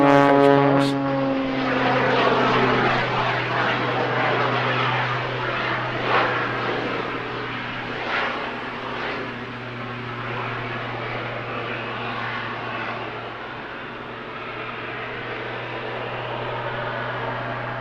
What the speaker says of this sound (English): He's looking out the top of his canopy, be able to get a good look at you on his classic knife edge pass.